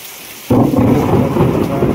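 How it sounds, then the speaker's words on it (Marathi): Heavy downpour with thunder on a farm at night, bursting in abruptly after a quiet half second into a loud, dense roar of rain with low rumbling that stays steady to the end, no voices. "लय मोठा पाऊस मित्रांनो, पहिल्यांदा बघतो एवढा मोठा पाऊस पडला आमच्याकडे"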